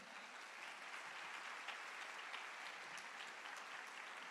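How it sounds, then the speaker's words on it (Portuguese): Church congregation applauding during a sermon, a dense continuous wash of clapping from many hands, steady and moderately distant throughout. "Pode dar uma salva de palmas, é para Jesus."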